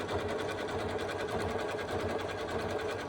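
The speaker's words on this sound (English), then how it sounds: "it's going to do that decorative stitch all the way around" A sewing machine runs a continuous decorative stitch around bias binding, a steady close mechanical whir with rapid needle chatter throughout, no voices.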